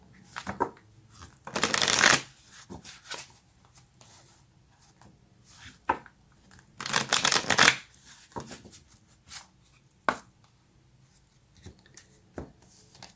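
A tarot deck is riffled and shuffled by hand in two long bursts, followed by shorter card flicks and slaps scattered across the quiet, close and crisp, with no speech.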